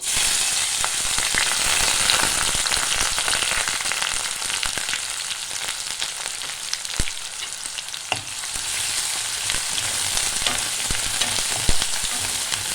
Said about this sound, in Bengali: পেঁয়াজটা একটু ভেজে নিতে হবে।